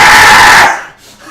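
A voice mimics the bellowing screech of a six-foot boar-headed creature with a human body: one loud, harsh, sustained squeal that cuts off abruptly after under a second, followed by a quiet tail.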